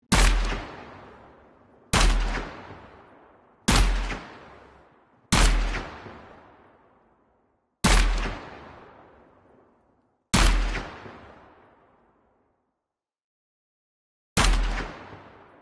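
Seven loud gunshots from a test-fired gun in Gunsmith Simulator, each a sharp crack with a long reverberant tail, spaced about two seconds apart with a longer pause before the last.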